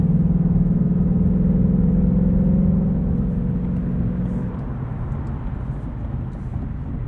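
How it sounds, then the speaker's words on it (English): Cabin noise inside a 2020 Ford Mustang GT Premium convertible cruising at 70 mph with the top up, a loud steady low engine and road drone with a faint high whir, easing slightly partway through, no talking. "let you hear what convertible top sounds like at 70 miles per hour"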